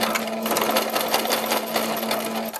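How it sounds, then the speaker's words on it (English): A sewing machine stitches a seam on a fabric hat in a steady, fast, continuous mechanical whir, close and clear throughout. "we're just going to take it to the machine and we're going to do a stitch over the areas where we had open"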